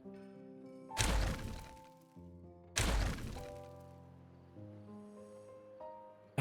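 Two loud, booming detonations in a Minecraft-style game on the new map Oasis, each a sharp broadband blast that decays over about a second, set against a calm tonal game soundtrack.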